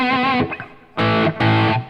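Electric guitar lead tone through a Solo 100 amp emulation modeled on the Soldano 100, with light reverb: a distorted sustained note followed by two bright, loud phrases with brief gaps.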